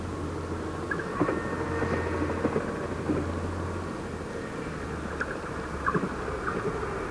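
A red regional train from Donaueschingen pulls out of Mülheim station, a steady low rumble and hum rolling on at a moderate distance, with a few faint higher squeals and rattles rising through it.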